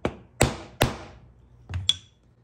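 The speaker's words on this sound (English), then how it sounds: "And we're going to set that rivet." A rivet is set on a leather western saddle fender fob with several sharp, close hammer blows, each with a short ringing decay, spaced irregularly with a softer tap near the end.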